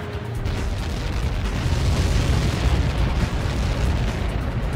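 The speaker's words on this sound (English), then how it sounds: "How many got caught in that explosion?" A massive explosion on impact in the Ace Combat 7 flight combat game, a deep sustained roaring boom with rumbling low end that fills the whole stretch at steady loudness, with no voices over it.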